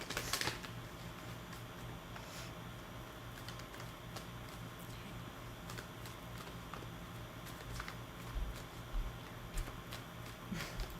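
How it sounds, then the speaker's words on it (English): Tarot cards are shuffled in a soft, continuous, faint riffle of small clicks and papery flutters, with a louder burst at the start and a few sharper taps scattered along, alone and without speech. "Let's give this a little shuffle here."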